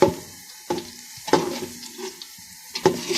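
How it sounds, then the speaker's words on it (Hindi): Garlic and onions frying in a pan, stirred with a spoon: soft steady sizzling punctuated by several sharp scraping clacks of the spoon against the pan, close up. "चमचा अच्छी तरह हिलाएं कि इधर उधर से जल ना जाए प्याज साइडों से"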